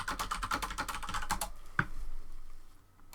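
Rapid, steady keystrokes on a computer keyboard clatter close by for about a second and a half, then give way to a faint room hush with one last isolated tap.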